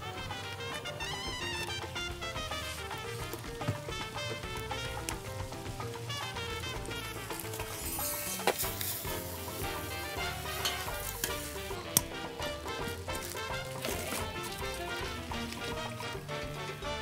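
Kimchi is stir-fried in a pan for a kimchi stew, a continuous sizzle with stirring scrapes beneath prominent background music.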